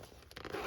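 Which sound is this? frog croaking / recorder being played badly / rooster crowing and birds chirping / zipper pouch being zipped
zipper pouch being zipped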